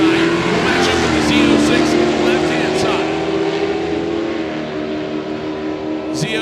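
A 1968 Chevy Chevelle and a Corvette Z06 drag race side by side, their engines roaring loud and close with a sustained revving drone as the pair launches, while a commentator talks over it.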